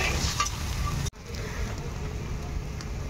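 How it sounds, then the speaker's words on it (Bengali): Fish curry gravy bubbles in a pan, a close sizzling and simmering that drops out abruptly for a moment near the start, then carries on steadily with no voices. "তো দেখো মাছের ঝালের ঝোলটা কিন্তু ফুটে গেছে"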